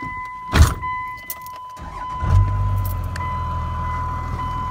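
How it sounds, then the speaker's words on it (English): A second-generation Ram pickup with a Cummins diesel engine cranks briefly and fires up, then settles into a steady, loud, close idle that carries on to the end. "we'll put the key in and start the truck"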